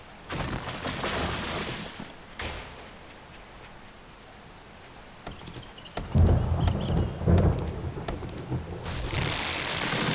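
Rain and thunder in the 7 Days to Die survival game, with a steady hiss of rainfall, a couple of sharp cracks, and deeper rolling thunder rumbles midway at moderate loudness.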